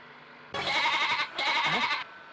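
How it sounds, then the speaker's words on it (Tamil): A goat bleats twice in quick succession, each call long and wavering, loud and close against a quiet background with no talk. "என்னடா ஆடு கத்துற சத்தம் கேக்குது?"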